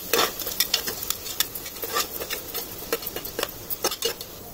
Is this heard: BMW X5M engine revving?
no